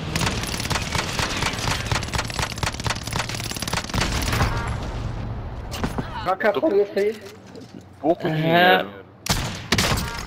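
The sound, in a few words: gunshots from video game Warzone sniper rifle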